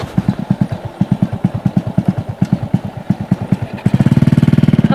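Motorcycle engine running close by with a loud, even chugging pulse that quickens into a faster, steadier beat near the end.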